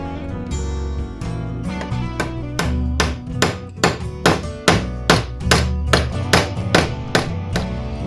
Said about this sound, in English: I have to peen over the tops of the rivets